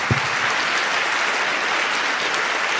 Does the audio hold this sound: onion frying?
no